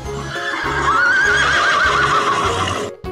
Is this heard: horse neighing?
yes